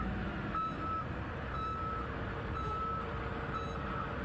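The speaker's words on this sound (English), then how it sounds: "be sure that all truck backup alarms work properly" A haul truck's backup alarm on an asphalt paving project, beeping steadily about once per second over a loud idling diesel engine rumble, no talking.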